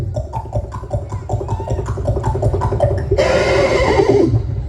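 A human voice imitates an old-era film horse neigh with a rapid, quavering whinny that is loud and close, then ends in a harsher, breathy burst.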